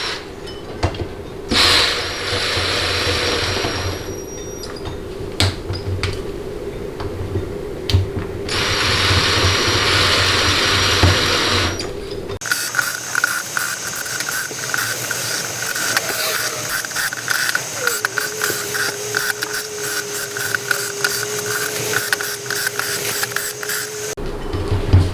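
A power tool whirs in repeated bursts as bolts are run down on a Sonnax 68RFE transmission valve body and solenoid pack, then a long steady buzzing hiss follows, close and fairly loud with no talking.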